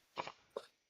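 Two short coughs from someone on a casual podcast, the first a double burst and the second a single sharp hack, close and fairly quiet with silence after.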